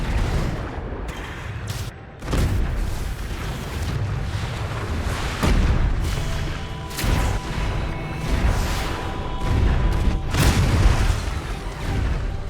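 Naval battle in Anno 2205 with ships under artillery fire: repeated heavy booms and blasts burst through a dense, continuous roar of combat noise, with several sharp impacts spaced across the scene.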